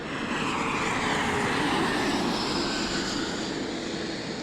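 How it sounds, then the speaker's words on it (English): Airplanes flying overhead just beyond LaGuardia Airport in New York City, heard from a kayak on the water, a broad steady jet roar that swells gently and fills the whole stretch without talk. "even though we have airplanes flying right overhead"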